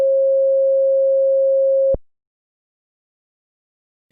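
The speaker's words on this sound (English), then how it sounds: "we have one sine wave duplicated, and then we have that same sine wave with the polarity flipped" A pure sine wave test tone in a Logic project holds steady and loud for about two seconds, then stops abruptly, leaving silence.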